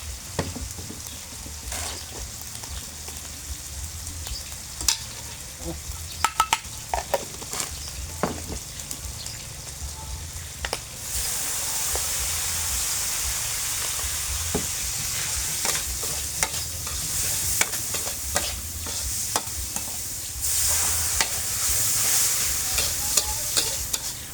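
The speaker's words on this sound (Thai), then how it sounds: "ที่จริงแล้วเวลาเราผัดกะเพรา" Pork belly and holy basil stir-frying in a pan, a steady bright sizzle with scattered scraping stirs and clinks that grows louder and fuller halfway through, with no talking.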